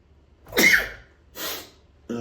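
A single sharp sneeze bursts out up close, followed by a softer breathy exhale and a brief vocal sound at the end, in an otherwise quiet indoor room.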